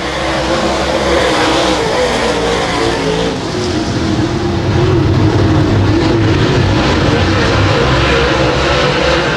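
Super late model race cars roar around the dirt track at Genesee during a ULMS heat race, a loud, continuous, dense engine drone that swells slightly as the field passes.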